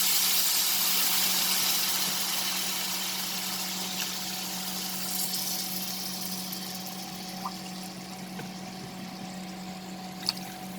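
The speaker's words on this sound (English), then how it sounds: "Now we will add water. You can use lukewarm water, you can use normal water." Water being poured into a semolina halwa mixture with sugar, a steady broadband rush that stays loud and continuous throughout, with a low hum underneath.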